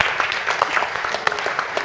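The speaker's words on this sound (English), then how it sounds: "Wait, what a clapping." Crowd at a Plymouth Argyle versus Witheridge football match clapping, a steady patter of many hands heard from within the stands.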